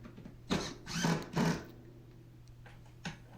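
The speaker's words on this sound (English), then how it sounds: "Put a few screws in." A power drill drives screws into a plywood subfloor patch piece in three short close bursts, followed by a fainter brief whir near the end, with a steady low hum underneath.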